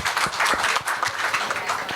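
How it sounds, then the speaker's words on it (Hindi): Audience applause at an occult summit conference hall in India: a dense, steady patter of many hands clapping together, fairly close and even in loudness throughout, with no voices over it. "भाई भाभी जी ने जो कहा उसके लिए तालियां सभी ने बजाओ।"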